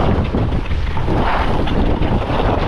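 Strong wind roars on a ski slope, buffeting the microphone as a loud, continuous, unbroken rush of noise.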